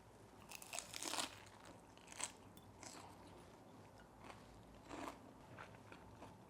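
A mouthful of crisp seasoned bean sprouts is chewed close up, giving quiet wet crunches in irregular bursts against a faint steady hiss, with no talking.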